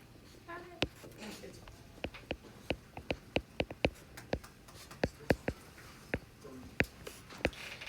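Students scribbling with pencils on paper in a geometry classroom, a steady run of short, close scratching strokes with faint voices in the background.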